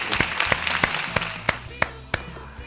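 Sparse audience clapping at an evening tribute gathering, a handful of loud isolated claps spaced out over a low room murmur, thinning toward the end.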